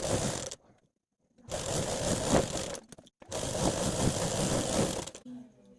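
An electric sewing machine stitches fabric for pants made from an old circle palazzo, running in two steady buzzing bursts of about a second and two seconds, separated by short pauses, close and moderately loud.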